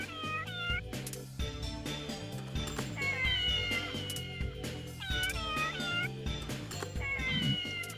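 Repeated meows from a cat statue in the video game Persona 2: Innocent Sin, sounding over looping game music with chiming tones, several distinct mewing calls in two clusters.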